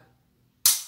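A single sharp pistol trigger click during a dry-fire trigger-weight test, heard alone after near silence, close and crisp with a quick decay.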